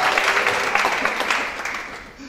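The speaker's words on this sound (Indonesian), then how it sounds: "Tepuk tangan yang bagi Allah kita." Church congregation applause during a Sunday service at Bethany Senayan, a close, full burst of many hands clapping that gradually tapers off, with a voice speaking over it.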